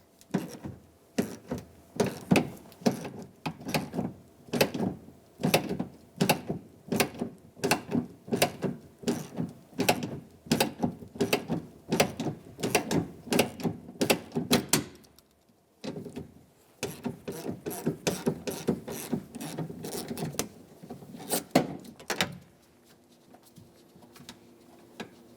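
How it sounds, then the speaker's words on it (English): Ratchet with a 10mm socket backing off the door handle mounting nuts on a 1997-2003 Ford F-150 front outer door, a long run of close, crisp rapid clicks in bursts, pausing briefly midway, no talking. "Now with the 10mm socket, I'm going to remove both mounting nuts that hold the door handle."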